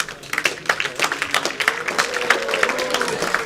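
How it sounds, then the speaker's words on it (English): A crowd at a lawn bowls match, the 2015 Co-Op Funeralcare International Open, breaks into applause and cheering, a dense patter of clapping lasting a few seconds at moderate volume. "Oh, nice cheer from the crowd there for John."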